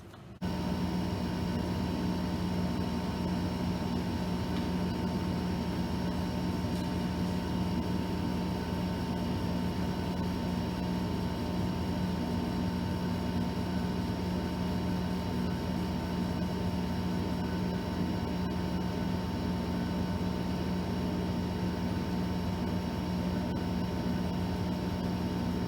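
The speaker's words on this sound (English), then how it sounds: "turn on our exhaust and our air compressor, and start the engraving process" A laser engraver cutting paper seed tags with its exhaust fan and air compressor running, a steady even machine hum and whir with a constant tonal drone throughout, no talk.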